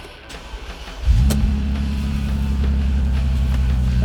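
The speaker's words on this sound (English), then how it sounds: "It makes that V12 or W12 twin 6-cylinder sound that the only 12-cylinder cars can make." A 2005 Bentley GT's W12 engine cranks briefly, fires up and holds a smooth, steady, deep idle close by, loud and even with no talk.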